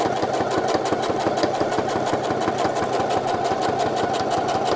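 A sewing machine runs continuously at steady speed, stitching a short basting line to hold drawstring shorts pieces in place, with a close, even mechanical whir and rapid needle rhythm and no speech.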